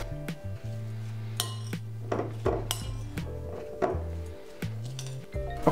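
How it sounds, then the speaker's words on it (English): Tuna salad with pickled cucumbers is mixed in a bowl, giving a series of clinks and knocks of a utensil against the dish, close, with short gaps between strokes and no talking. "I'm just gonna give it a short mix."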